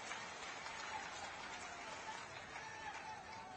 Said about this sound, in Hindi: ताली की गड़गड़ाहट से धन्यवाद दिया जाए।